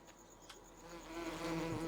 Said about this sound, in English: Oh, this has got the wasp nest in it.